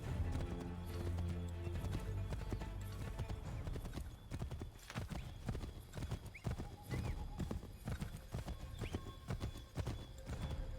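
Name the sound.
horse hooves clip-clop in video game Assassin's Creed III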